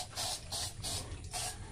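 Mosquito spray being sprayed onto a pig on a farm: four short, close hissing bursts in a quick, even rhythm, with brief gaps between them.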